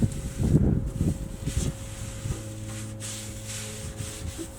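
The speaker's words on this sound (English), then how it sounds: "you could probably keep wiping stuff off if you keep putting cloth on it" A cloth rubs across a very dirty, hot grill being cleaned with degreaser, making close scrubbing strokes that are loudest at first and then fade into softer wiping with a steady hum underneath.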